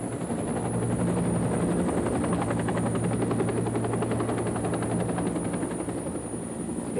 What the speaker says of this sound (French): L'hélicoptère de la sécurité militaire.